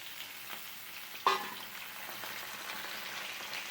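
Cut potatoes dropped into hot oil spiced with dried red chillies and black cumin: one sudden sizzling burst, then a quieter steady frying crackle, close and faint, with no talk.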